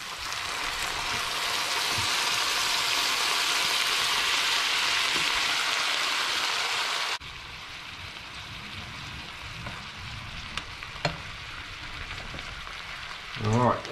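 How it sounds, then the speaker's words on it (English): Steak and onions for Filipino bistek sizzle hard in a frying pan, a loud, steady dense hiss for the first half, then a quieter crackle with scattered pops and a brief clatter near the end. "I'm going to throw my steak back in there, and any of the resting juices that have come out of it."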